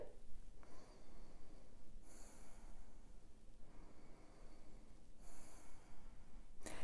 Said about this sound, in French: je devrais entendre le bruit du souffle dans mes respirations